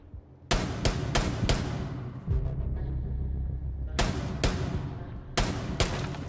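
Gunshots crack in the video game Rainbow Six Siege, a quick burst of several rounds followed by a pause with low rumble, then more sharp shots in clusters, close and loud.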